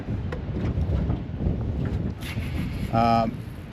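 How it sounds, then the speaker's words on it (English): Strong wind buffets the microphone in a steady, low roar over a lake at a creek mouth, with a brief tonal whine near the end. "You can see how windy it is out here today."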